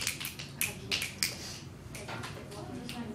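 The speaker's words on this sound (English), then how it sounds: "you should be able to snap your fingers" Students in a classroom snap their fingers, a handful of sharp scattered clicks early on that thin out into softer, sparse snaps, with faint voices underneath.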